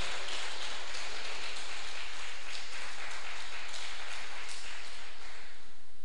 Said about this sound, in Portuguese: você pode dar uma linda salva de palmas ao Senhor